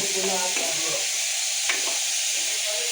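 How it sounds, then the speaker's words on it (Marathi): Chopped onion and green chili fry in hot oil, with a steady close sizzle and a few stirring scrapes across the pan. "कांदा आणि मिरची टाकली. तेलामध्ये थोडा फ्राय करतोय आता."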